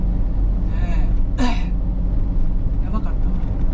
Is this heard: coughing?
yes